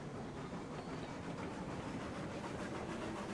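A train in the Railroads Online game runs at a steady pace, a quiet continuous rumble and hiss with soft rhythmic rail clatter and no voices.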